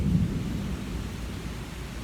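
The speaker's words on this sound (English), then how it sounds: "looks like the rain's dying down a little bit" Steady rain with low rumbling outside during a storm under a flash flood warning, a constant wash of noise that eases slightly, with a deeper thunder-like rumble near the start and no voices.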